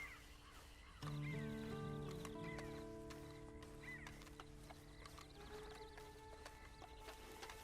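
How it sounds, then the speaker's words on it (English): Horse whinny and hoofbeats from the Red Dead Redemption 2 video game, a loud neigh starting abruptly with clip-clopping and crow-like caws over a busy ambient game soundscape. "Then you better get on this horse."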